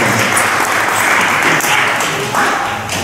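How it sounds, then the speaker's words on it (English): Audience applause for participants after a dance school performance, a steady dense wash of clapping sustained evenly across the short stretch, fairly loud and close. "A big round of applause for all the participants."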